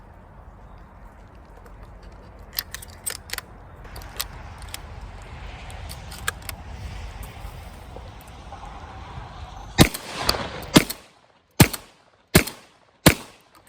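Remington 11-87 semi-automatic shotgun firing 7.5 shot loads, four or five loud sharp reports spaced about a second apart near the end, after a stretch of quiet outdoor rustling and a few faint distant pops.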